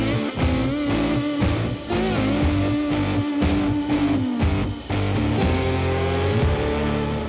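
A first edition Ford Bronco runs an off-road competition course, its loud engine droning steadily with revving pitch changes and brief dips, continuous and close throughout.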